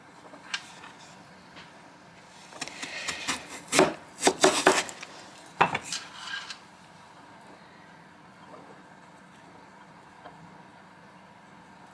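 Thin slices being cut from a sweet potato with a not-very-sharp kitchen knife on a board, a cluster of close, crisp rasping cuts in quick succession, then quieter handling and near silence.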